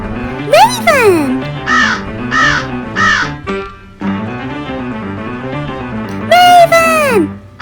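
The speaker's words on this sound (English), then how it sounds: "Raven." A raven cawing in a row of harsh, repeated calls among Halloween animal sounds, loud and close, with a voice and sweeping music around it.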